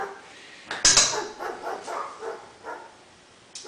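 Dogs out on a walk, giving several short barks and yips in quick succession, fairly quiet and at moderate distance.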